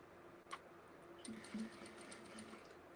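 A sewing machine stitches a bag gusset, with faint, quiet mechanical ticking and a few soft clicks and knocks as the fabric is handled.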